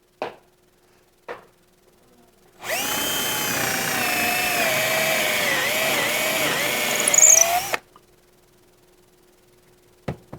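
A power drill bores a center hole for about five seconds, a loud, steady whine with a slight change in pitch partway through. A few brief clicks come before and after.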